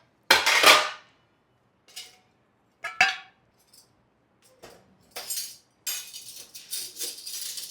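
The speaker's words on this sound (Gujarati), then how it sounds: "વાસણ તો મોટા ભાગના થયા છે એમાં ચમચી જ છે" Dishes and spoons clatter during evening kitchen washing-up, with sharp clinks and scrapes in separate bursts, loudest at the start and busier toward the end. No one speaks.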